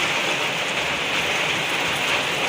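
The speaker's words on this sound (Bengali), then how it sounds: "কি জোরে জোরে বৃষ্টি হচ্ছে" Heavy rain pours down in a dense, unbroken hiss, loud and close, steady throughout with no voices.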